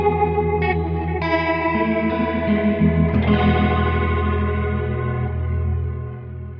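A Kemper profiling amp's rotary speaker effect, with the virtual microphone distance adjusted, colours sustained, chorus-like guitar chords that swirl and thicken, played loud and steady with no talking.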